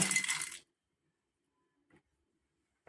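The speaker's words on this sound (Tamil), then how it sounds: "அடுத்ததாக கொஞ்சமாக கல்லுப்பு சேர்த்துக்கோங்க" Coarse rock salt for a Karaikudi-style spicy chutney with garlic goes into the ingredients: a short, dense rattling pour opens loud and close, then quiet follows with a couple of faint clinks.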